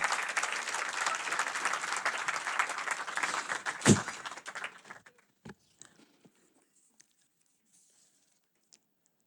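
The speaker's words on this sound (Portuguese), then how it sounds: "temos que os celebrar com uma salva de palmas" An audience at a book presentation in Porto applauds with dense, full clapping that thins out midway, leaving a few scattered final claps before near silence.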